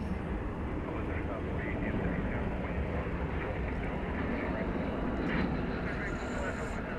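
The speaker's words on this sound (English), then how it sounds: "This looks to be American Flight 2267, a 737-800, going to" An American Airlines Boeing 737-800 jet takes off from an airport, a steady distant engine roar holding under speech throughout.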